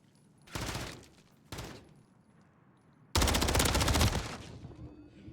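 Call of Duty MW3 gunfire: two short automatic bursts followed by a longer sustained volley, loud and close, with quieter game ambience between.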